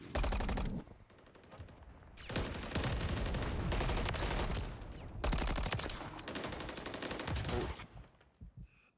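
Automatic gunfire in an online shooter video game, long rapid bursts of close, loud shots with a short gap between them and a few isolated shots at the end.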